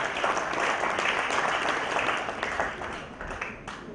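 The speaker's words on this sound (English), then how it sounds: "Can we please clap as he comes to give a farewell speech to our graduates?" Applause from the audience at an international students graduation ceremony as a farewell speaker comes up, steady clapping that thins slightly toward the end.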